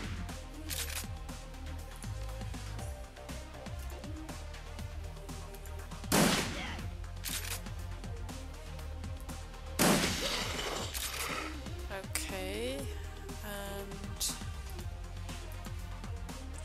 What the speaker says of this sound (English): Now, we shoot